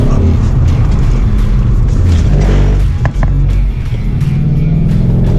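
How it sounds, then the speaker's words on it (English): A Ford Mustang driven on a wet skid pan during performance driver training, heard as a loud, continuous roaring engine and tyre rumble from inside the car that dips briefly near the end. "he took us for a quick little skid pan"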